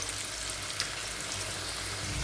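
Potatoes fry in a pan with a faint, steady sizzle and light crackle, close by and continuous.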